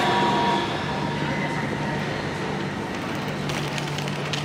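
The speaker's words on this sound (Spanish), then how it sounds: "Tantos tranvías, como les digo, esta es la avenida más transitada probablemente de la ciudad." Trams roll along the busiest avenue in Gothenburg, a continuous rumbling rail hum with faint squeals and clanks, heard up close over general street noise.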